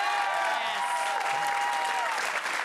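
An audience claps steadily in enthusiastic applause, with a few voices mixed into the crowd noise throughout.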